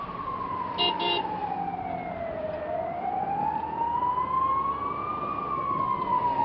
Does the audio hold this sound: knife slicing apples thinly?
no